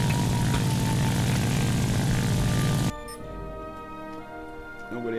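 Propeller bomber engines in the War Thunder video game drone loudly and steadily, then cut off abruptly partway through, leaving a quieter background hum with faint clicks.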